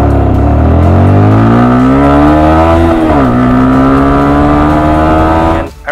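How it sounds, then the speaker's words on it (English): A motorcycle engine revs loud and close, its throaty pitch climbing steadily, dipping briefly, then holding high before cutting off abruptly at the end. "you guys have heard this bike's sound signature a few times already"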